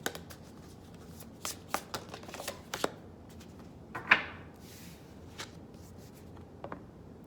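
Oracle cards being shuffled by hand, a soft papery riffle of brisk, uneven flicks and slaps, close and fairly quiet with no talking.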